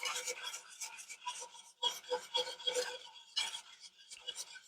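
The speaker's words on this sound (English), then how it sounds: "So we're stirring that in." Apple jelly mixture being stirred in a pot for canning, giving a run of soft scraping, rasping strokes in an irregular rhythm, close and fairly quiet, with no talk over it.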